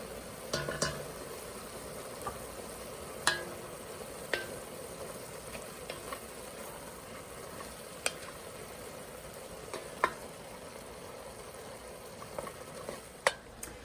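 Ground meat, onions and garlic fry for chili in a pan, giving a low, steady sizzle broken by sharp clicks and scrapes of stirring. No one speaks.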